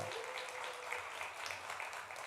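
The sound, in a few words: church congregation applauding to welcome a missionary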